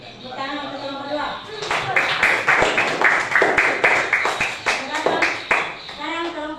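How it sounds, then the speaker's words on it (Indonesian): A classroom of students claps for a student group, brisk rhythmic hand claps building quickly and holding for several seconds before easing off, with a voice speaking briefly at the start and end. "Tepuk tangan untuk kelompok 2."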